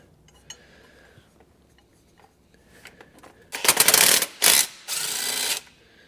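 Ratchet work on the 13mm bolts holding the power steering pump of a Dodge Ram 1500 with the 5.7L Hemi, heard as a faint scattering of small clicks and then three loud, close bursts of rapid ratcheting, each roughly a second long.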